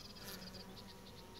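Honey bees gather pollen from pomegranate flowers outdoors, producing a faint, steady insect buzz with soft pulsing wingbeats and no voices.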